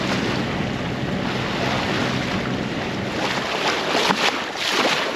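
A sailboat motors into a headwind along the coast between Savannah and Charleston, its engine making a steady drone under heavy wind buffeting on the microphone and waves slapping the hull, loud and continuous with no voices.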